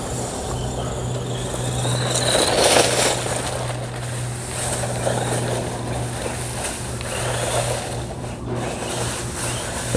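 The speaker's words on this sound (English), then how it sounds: "Let's run it in this grass here." A Temu Polar Lights RC truck driving through grass, with a continuous motor whine and rough rustling rumble swelling and easing over about ten seconds, no talking.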